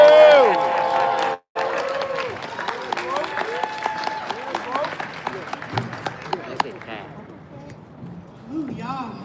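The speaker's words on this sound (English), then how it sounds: "Round of applause for my lady, the love of my life" An audience at a boxing fight-week press conference applauds and cheers for Claressa Shields, with scattered sharp claps and crowd noise mixed among voices, fading toward the end.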